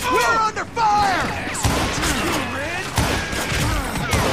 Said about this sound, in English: Who's shooting at us? We're under fire!